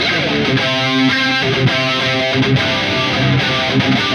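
A distorted electric guitar played through an MXR Analog Chorus pedal plays sustained chords with a wavering, shimmering tone, continuous and fairly loud with no voices.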